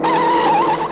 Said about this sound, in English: Even the great Farina spins.